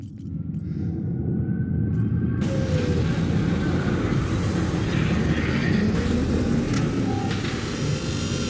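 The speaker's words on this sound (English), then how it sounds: "There's a dropship approaching you." Dropship in the space game Spacebourne 2 drawing near, a loud, steady engine roar with a deep rumbling base that swells into a fuller, brighter whoosh after the first couple of seconds and holds.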